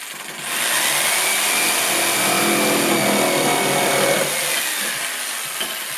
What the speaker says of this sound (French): Donc là, je coupe mes points à la scie sauteuse.